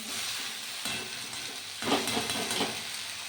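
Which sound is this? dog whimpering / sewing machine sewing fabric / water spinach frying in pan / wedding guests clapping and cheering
water spinach frying in pan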